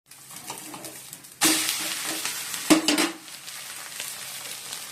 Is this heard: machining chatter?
no